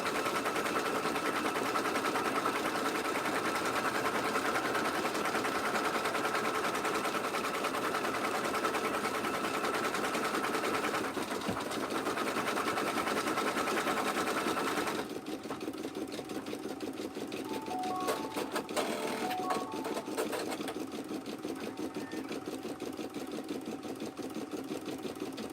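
A home sewing machine stitches craft items steadily with a continuous close mechanical whir and needle rattle, loud and unbroken for the first stretch, then slightly quieter with faint clicks.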